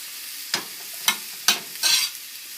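Meat pie filling of seasoned meat with salt and pepper being stirred in a pan, four distinct scraping strokes spaced about half a second apart over a steady soft sizzle, close and moderately loud.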